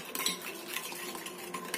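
A utensil stirs pumpkin cake batter with vanilla in a bowl, giving quick, faint scraping and clinking strokes in a soft irregular rhythm.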